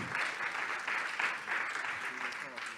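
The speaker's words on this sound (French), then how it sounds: "Sous vos applaudissements" Audience at a business startup conference applauds a presenter onto the stage, a fairly quiet, steady patter of clapping heard from some distance, pulsing slightly as it continues.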